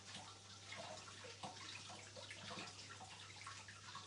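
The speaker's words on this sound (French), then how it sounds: "je passe ça sous l'eau pour pas faire de bêtises" Farm eggs being rinsed under running tap water, a continuous faint splashing stream with a low steady hum beneath it and no talk.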